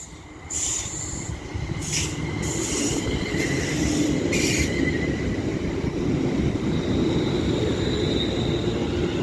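A London Northwestern Railway Class 350 electric passenger train rolls into Stoke-on-Trent station on the West Coast Main Line with a loud, steady rumble, wheels squealing high above it, no voices.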